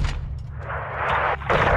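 Gunfire and explosive booms from the video game Call of Duty: Modern Warfare 2 roll on continuously at moderate loudness, with heavier blasts swelling near the end.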